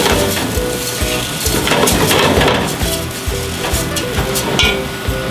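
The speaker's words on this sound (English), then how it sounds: "you want to toast it slightly without burning the onion" Rice toasting in hot fat with onion in a pan, a dense continuous sizzle broken by repeated scraping and clattering as the grains are stirred, loud and close.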